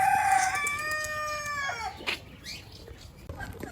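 A rooster crows loudly and close by at an eco resort near Dhaka, Bangladesh, one long harmonic call, followed by softer clucks and rustling with no talking.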